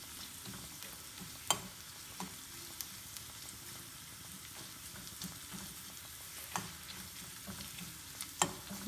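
A metal spoon stirs Kerala chutney in a non-stick pan, giving scattered scraping clicks and knocks over a soft, continuous sizzle of frying.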